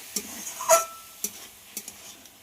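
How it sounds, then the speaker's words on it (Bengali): Cabbage and potatoes with spices being stir-fried in a pan: a few scattered scrapes and clinks of a spatula against the pan over a faint background, with no talking. "এবার সিদ্ধ করে রাখা বাঁধাকপিটা দিয়ে দেব। আবারও খুব ভালো করে কষিয়ে নিতে হবে।"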